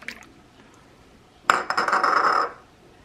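Milk poured into a dish for a budget family dinner, a short liquid pour with light clinks against the dish, about one second long, following a quiet stretch.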